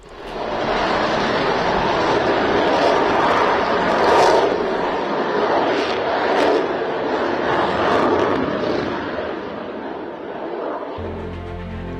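A Rafale fighter jet takes off at Ambala air force station, giving a loud, sustained roar that rises and swells for several seconds before easing slightly.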